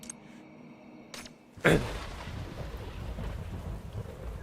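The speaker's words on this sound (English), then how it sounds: "The rain begins again, a downpour of contaminated water from the black tide. Lightning flashes, thunder booms." Thunder rumbles and rain pours in the video game Path to Nowhere, with a few soft early crackles before a sudden loud thunderclap gives way to a steady downpour.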